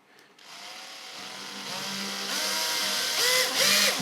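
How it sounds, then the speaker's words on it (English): A small drill boring a hole with a 2mm bit while installing wiring on a model railway goods train set, a steady whirring drone that rises slightly in pitch and stays close and continuous throughout. "and then we'll drill the other hole"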